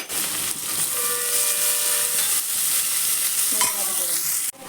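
Chopped onions sauté in a hot pan for mushroom biryani, a steady loud sizzle and hiss with stirring scrapes running throughout, no talking.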